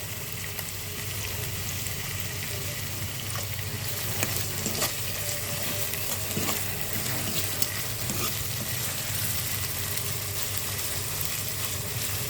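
Dried red chillies sizzle in hot oil for a dhaba-style dal tadka, a loud, dense, steady crackling hiss close up that runs unbroken throughout with occasional faint pops.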